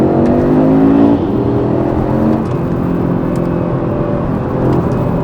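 An Audi RS3 8Y accelerates hard, its engine loud and close with rising, sweeping tones. The pull repeats through gear changes over several seconds, with no voices.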